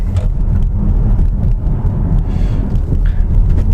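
A 2014 Audi A6 Allroad's 3-litre diesel under power on a winding road, heard from inside as a continuous heavy low rumble blended with tyre and road noise, steady and loud with no voices.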